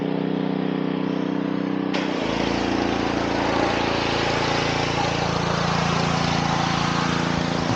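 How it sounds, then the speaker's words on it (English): A pressure washer runs nearby on a neighborhood street with a loud, continuous engine-like drone that steps up in intensity after a couple of seconds and holds steady. "We're gonna try and stay away from the pressure washer"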